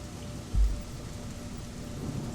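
Steady rain falls outside a school on a dark afternoon, an even, moderate hiss throughout with one brief low thump near the start.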